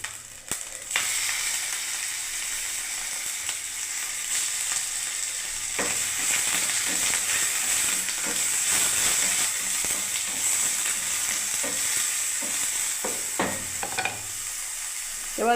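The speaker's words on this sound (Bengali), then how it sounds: "এবারে বন্ধুরা আমি দেখুন পেঁয়াজ পেস্ট দিয়ে দিচ্ছি।" Onion paste sizzles steadily in a hot pan, a continuous loud frying hiss with occasional light stirring taps throughout.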